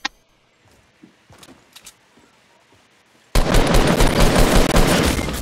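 Sustained rapid gunfire erupts loud and close in Fortnite Battle Royale, a dense continuous burst of shots following a quieter stretch of scattered clicks, footsteps and faint distant pops.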